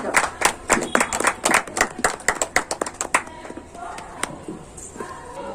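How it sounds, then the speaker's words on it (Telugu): An audience claps in welcome for a pastor at a 25th wedding anniversary celebration, with sharp, fairly steady hand claps close by that thin out toward the end. "చప్పట్లు కొడుతూ ప్రేమతో ఆహ్వానిద్దాం"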